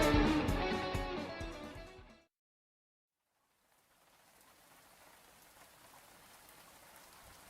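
Soft, steady rain hisses faintly as a quiet rain sound effect. It follows a short burst of music that fades into silence.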